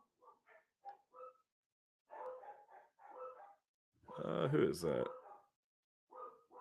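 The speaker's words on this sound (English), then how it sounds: "My dogs are going nuts. I apologize if you hear them in the background." Several dogs indoors bark in short bursts, a few sharp yips and then a longer loud run of barking, with a voice speaking briefly in between.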